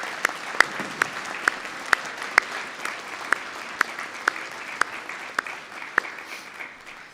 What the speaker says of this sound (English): give a round of applause for both staff and family and friends who have supported you on this journey